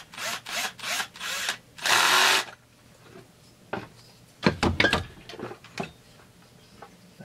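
Power tool driving bolts during assembly of a Husqvarna 350 chainsaw: several short bursts of whirring, then a longer one, followed after a pause by quieter, clustered bursts.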